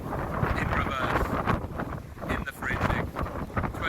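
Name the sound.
strong wind on a coastal path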